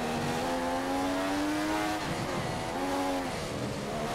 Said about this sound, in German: Mein Motor klingt gerade nicht so gesund.